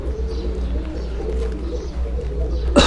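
Pigeons sit inside a net enclosure at a shop, giving soft low cooing close by over a constant low hum, with a sharp bump at the end.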